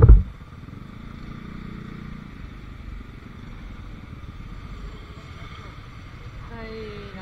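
Street traffic in Lapu-Lapu City rumbles steadily, cars and motorcycles passing with a continuous engine drone and clatter, after a loud bump at the start; a voice talks faintly beneath.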